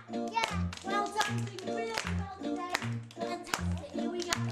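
Children clap their hands together in a steady rhythm during a school music session, with sharp repeated claps sounding alongside a piano-like melody and children's voices.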